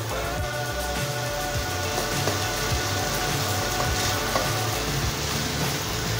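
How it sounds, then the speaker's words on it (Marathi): Rice sautéed in a pan with prawn masala, giving a loud, continuous sizzle and frying hiss close up, with faint rhythmic scrapes of stirring underneath and no talking. "आता हे तांदूळ आपण 1 ते 2 मिनिटं छान असे परतून घेऊयात।"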